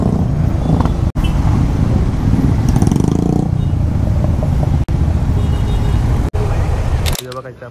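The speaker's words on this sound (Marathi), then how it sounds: "हे बघा नुसतं चालले आहेत नुसत्या गाड्या रे गाड्या" Cars and motorcycles on an Independence Day group ride of over 250 riders from Mumbai to Durshet, a steady broadband roar of passing traffic close by with voices talking over it.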